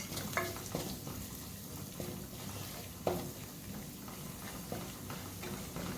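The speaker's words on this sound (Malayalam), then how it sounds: "ഓയിൽ ചൂടായിട്ടുണ്ട് ഇതിലേക്ക് വെളുത്തുള്ളി പേസ്റ്റ് ഇട്ട് കൊടുക്കാം" Garlic paste and green chilli frying in hot oil in a pan, a dense, steady sizzle with a few light taps of the spoon, close and even, no talk.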